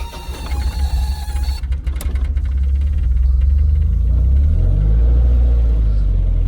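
A Toyota Corolla AE71/TE72 engine cranks with a brief rattling burst, then catches and settles into a steady, loud low rumble close by.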